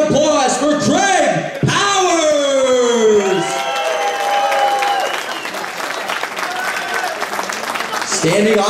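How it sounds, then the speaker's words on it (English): A boxing crowd cheers and applauds for a fighter being introduced in the ring corner, loud sustained clapping with whoops and shouts, and an announcer's voice carrying over the noise at the start. "Everybody's give a big round of applause for Craig."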